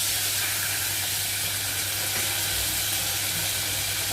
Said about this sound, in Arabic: هنزل بقى بحبه خل